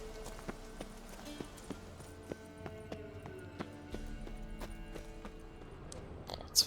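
Hooves of Roach, the horse in The Witcher 3, clop in a steady walking rhythm of distinct evenly spaced steps over a low ambient background, closing with a louder thud.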